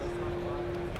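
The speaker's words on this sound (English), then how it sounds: "when I play that wave, it just sounds like a tone" A steady pure sine wave tone played back in Spectral Layers audio editing software, a single unbroken pitch held evenly for the full second over a faint noisy background.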